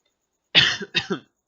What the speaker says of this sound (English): sorry, still coughing